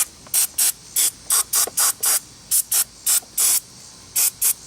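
Brake cleaner is sprayed in quick short bursts onto the caliper bracket and pins of a 2002 Pontiac Grand Am's front disc brakes, about fifteen sharp hissing squirts in a rapid, uneven rhythm, close and clear with no voices.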